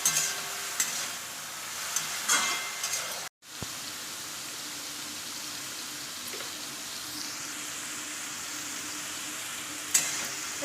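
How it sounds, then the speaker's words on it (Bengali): Sliced onion frying in oil in a pan, a continuous moderate sizzle with light stirring scrapes, briefly cut off once, heard alone without talk. "এই পেঁয়াজটা দিয়ে দিলাম এর মধ্যে, এর সঙ্গে ভাজা হবে পেঁয়াজটা।"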